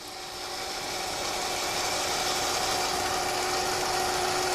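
Toy tank motors with four-shaft gearboxes run slowly on grippy carpet, a steady, faint whirring hum that builds in over the first second and holds even, with no talk.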